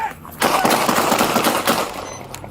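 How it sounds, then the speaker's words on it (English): Police troopers fire a fast volley of gunshots in a rapid, continuous burst at an officer-involved shooting, loud and close, then fading into a quieter tail. "24 shots fired, 1 down"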